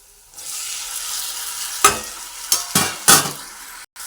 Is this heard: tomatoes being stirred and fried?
yes